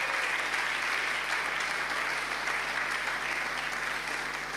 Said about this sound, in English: You should be applauding by now.